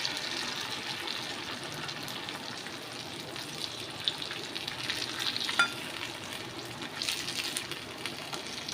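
Fish pieces frying in oil in a pan with curry leaves, giving a steady close sizzle with light crackles and occasional pops, no voices over it.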